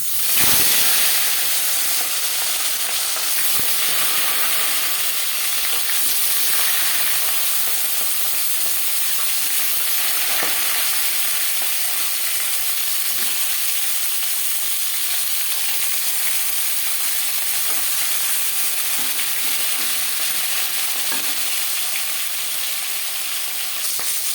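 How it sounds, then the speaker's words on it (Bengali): A fish head coated in salt and turmeric fries in hot refined oil, giving off a loud, continuous, hissing sizzle that holds steady and close for the whole stretch, with faint spatters and no voices. "মাছের মাথা ভাজবার জন্য চার চামচ মতো রিফাইন্ড অয়েল আমি গরম করে নিয়েছি"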